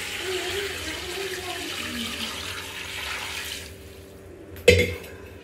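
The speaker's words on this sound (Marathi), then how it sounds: "आणि मग हे जे पाणी आहे हे त्याच्यामध्ये पूर्णपणे गरम झालेलं पाणी टाकणार आहे" Hot water poured into a pan of crab curry, a steady broadband pour of water lasting a few seconds before tapering off, ending with a brief sharp clink of a vessel.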